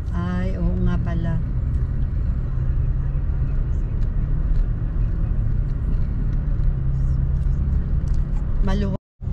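Car and bus engines rumble steadily through heavy city traffic on a Friday morning in the Philippines, a continuous low drone from inside a vehicle, with people talking over it at the start and end.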